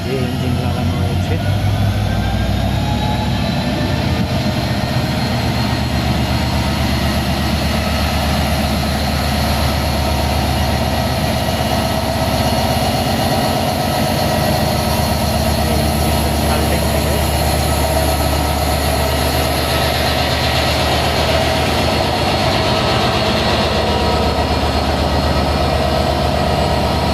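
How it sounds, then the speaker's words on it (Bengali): A railway locomotive engine idles at a night station in Panchagarh with a freight train, a steady low rumble holding throughout, fairly loud, with a person talking over it. "এই যে ইঞ্জিন লাগানো হয়েছে।"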